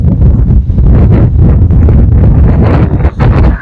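Wind gusting hard into the microphone outdoors on a blustery day at a birdwatching spot, a loud continuous low rumble and buffeting with brief dips, filling the whole stretch with no talk.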